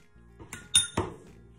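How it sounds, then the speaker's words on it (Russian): A spoon clinks against a bowl as four tablespoons of 30% fat sour cream go in for a chicken fillet marinade; a few bright, close clinks and taps stand alone in quiet. "В емкость добавляю 4 столовые ложки сметаны"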